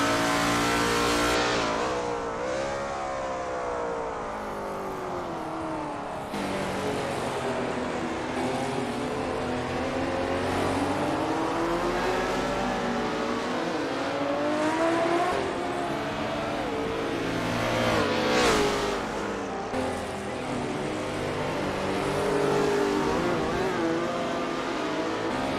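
A Pantera GR4 race car in GT Legends at Montreal, a loud engine revving hard through repeated gear changes with pitch climbing and dropping, other cars roaring past, under a faint commentary voice.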